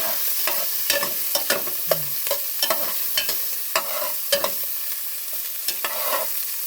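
Sliced onions sizzle and crackle in hot oil in a pan, a steady frying hiss broken by frequent sharp pops and spatters, with occasional stirring scrapes, close and alone.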